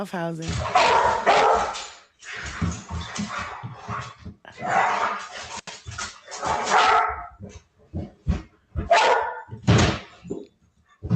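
Dogs roughhousing indoors, a black dog among them, giving scattered barks and yips in irregular bursts close by while people talk over the play.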